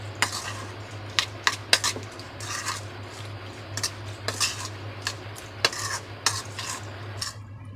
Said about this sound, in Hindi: अच्छी तरह मिक्स कर लेंगे